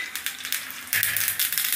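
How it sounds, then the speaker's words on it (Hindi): Mustard seeds crackle and sizzle in hot oil in a tadka pan for a South Indian coconut chutney, a steady close hiss with denser spitting bursts partway through. "तेल गर्म हो गया है, राई को डाल देंगे,"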